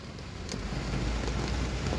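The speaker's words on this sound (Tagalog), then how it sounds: "talagang buhos na buhos ang ulan" Heavy pouring rain gives a dense, continuous roar of broadband noise, loud and steady from start to finish, with no voices over it.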